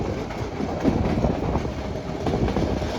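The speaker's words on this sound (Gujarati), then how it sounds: "આ તમે ગાડી જાય છે" A train rumbles past on a hill-cut railway line between Visavadar and Talala Gir, with a steady clatter of wheels, loud and close, with no voices.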